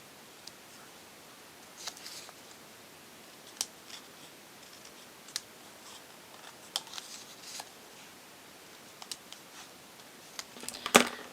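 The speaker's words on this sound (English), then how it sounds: "I'll just cut out these extra parts here" Scissors snip out the extra parts of a paper miniature bag kit, giving sparse, quiet, close cuts spaced a second or two apart and a faster burst of cutting at the end.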